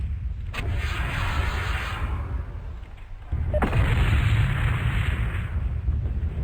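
Weapons fired as a group from a mech in MechWarrior 2: Mercenaries make two loud, sustained bursts of heavy booming blasts with a short lull between them.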